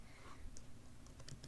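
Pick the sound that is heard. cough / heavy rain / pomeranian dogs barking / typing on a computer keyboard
typing on a computer keyboard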